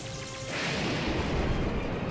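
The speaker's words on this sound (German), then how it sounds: "Also Blitz und Donner." Thunder in the video game Zelda: Breath of the Wild breaks in after half a second as a loud, sustained rolling rumble that fills the rest of the moment without any talking.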